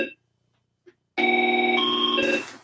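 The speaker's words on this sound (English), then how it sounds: "that line is ringing." A telephone line rings once on a central office test call: a short chirp and blip, then one sustained electronic ring burst that stops abruptly, with no talk.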